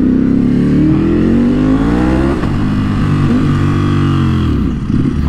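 A Ducati Superleggera V4 motorcycle engine revs hard and loud up close, its pitch climbing steadily, dropping briefly, then rising again in a continuous high-revving howl with no talking.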